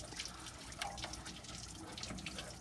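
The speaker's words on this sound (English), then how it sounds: "Right now we're just flushing the radiator." Water flushing through the radiator of a 1974 W200 truck, a faint continuous rushing and splashing flow with no talk.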